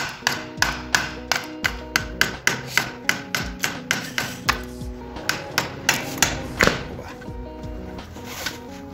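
A screwdriver is hammered through the oil filter on a Suzuki Intruder 1400 motorcycle: a steady run of about twenty sharp, evenly spaced metallic blows that slows and fades near the end.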